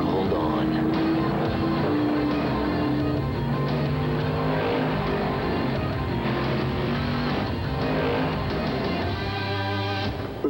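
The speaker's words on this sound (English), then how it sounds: "The Miller Genuine Draft Rusty Wallace stock car. It's tearing up tracks everywhere." The Miller Genuine Draft Rusty Wallace stock car roars around a track, a loud continuous engine drone with shifting pitch as it accelerates, racing noise filling the whole stretch.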